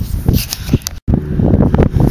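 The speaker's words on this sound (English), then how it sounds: "It's really windy today." Gusty wind buffets the microphone in rough, rumbling bursts, with a brief dropout midway and rustling throughout.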